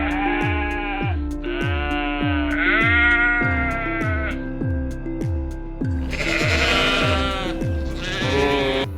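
Dairy sheep of a French breed bleat loudly and repeatedly, many wavering cries overlapping one after another with little pause, over steady low rhythmic thumping.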